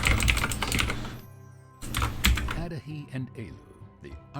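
Keys clatter on a computer keyboard during a gaming session, a dense burst of rapid clicks up front, then a pause and scattered lighter taps alongside voice-like tones.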